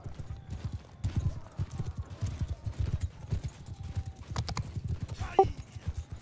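Horse hooves clip-clop steadily in Mount & Blade II: Bannerlord during a tournament battle, a fast rhythmic gallop running throughout with a brief whinny near the end, under faint game noise and distant voices.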